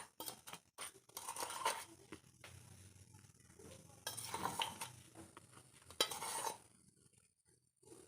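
Ghee and powdered sugar for cake cream are stirred and beaten in a bowl, a close, scraping, rhythmic mixing with short pauses and occasional clinks of the spoon.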